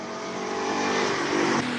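A BMW E46 M3 with a six-cylinder engine and rear-wheel drive runs on a hill climb course, its engine droning steadily and rising slightly as it revs.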